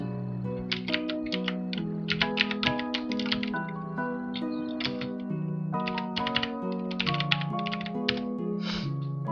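Rapid typing on a computer keyboard placed right beside the microphone, loud and close, with clustered bursts of keystrokes over a steady tonal background, no talking.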